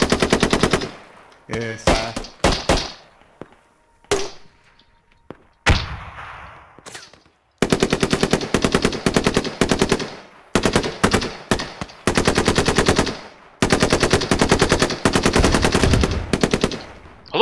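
Automatic weapon fire in the military shooter game Squad, long rapid bursts of loud, sharp gunshots broken by short pauses, with a brief spoken word among them.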